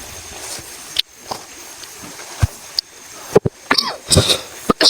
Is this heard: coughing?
yes